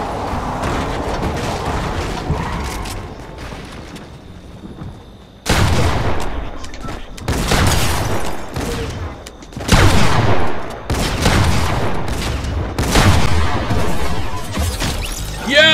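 Gunfire from other players in the Fortnite video game: repeated loud cracking shots in bursts, sparse at first and then rapid and dense after a brief lull, with faint mechanical clicks.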